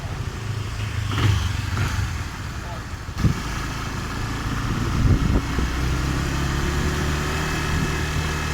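A Honda CB150 motorcycle with a faulty TPS sensor, its engine running steadily near 4000 RPM and hesitating, with a few sharper surges and a low continuous drone throughout.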